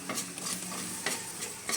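Food stirred and swirled in a frying pan, a close sizzle broken by quick scraping strokes and soft clatter of the utensil against the pan, with no voices.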